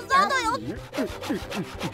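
Cartoon saw cutting back and forth through wood in four or five quick rhythmic strokes, close and fairly loud, with a brief voice or squeal at the start.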